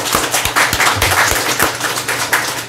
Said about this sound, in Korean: 우리 큰 박수 부탁드리겠습니다.